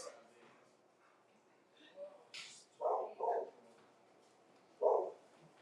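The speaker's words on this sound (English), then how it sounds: "my dog loves neutrals too. She's barking at Ben." A few short, sharp dog barks in a room, two close together and then one more, with a person talking quietly in the background.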